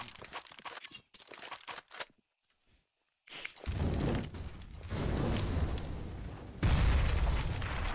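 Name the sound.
grenade explosion in a video game match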